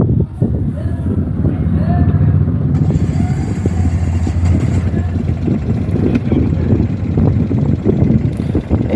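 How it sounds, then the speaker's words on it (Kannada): A Bajaj Maxima auto rickshaw engine starting and running, a loud, steady rough engine chug close to the microphone with wind buffeting throughout. "ಇದೇನು ಡಿ ಚೌಕ್ ಹೊಡೆದು ನಾವು ಗಾಡಿ ಸ್ಟಾರ್ಟ್ ಮಾಡಿ ನೋಡೋಣ ಬನ್ನಿ"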